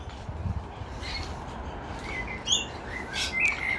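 Several faint parrot chirps and calls ring out from a pineapple guava (feijoa) tree over a steady outdoor rumble, coming in brief scattered bursts from some distance.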